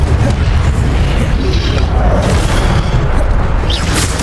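Incendio fire spell cast in Hogwarts Legacy: a continuous loud fiery roar and rumbling burst with crackling bursts, no voices.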